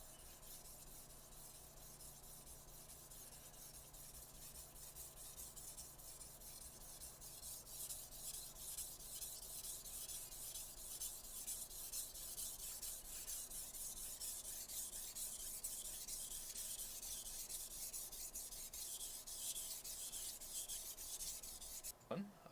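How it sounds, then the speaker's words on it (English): A knife blade is pushed along a whetstone in a steady, continuous rasping scrape that builds slightly in loudness and runs alone, close up, for about twenty seconds. "I would bring the spine of the knife toward the stone. So you lay the knife to develop a burr."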